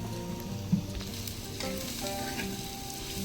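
A wild vegetable fries in a pan with turmeric and red chilli powder, sizzling steadily and close by, with occasional stirring scrapes and one brief knock, and no voices.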